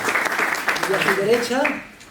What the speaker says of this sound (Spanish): Un aplauso a Carolina